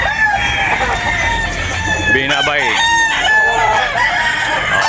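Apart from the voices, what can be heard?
roosters crowing at a market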